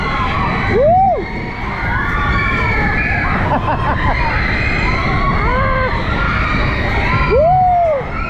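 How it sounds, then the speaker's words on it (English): Riders at Luna Park Sydney amusement park scream over a busy crowd. Rising and falling shrieks from a distance come and go, loudest near the start and end, over constant crowd noise. "Listen to those screams."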